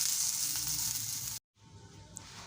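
Eggplant slices sizzle in hot oil in a pan, a close, steady crackling fry that drops out for a moment, then resumes more quietly.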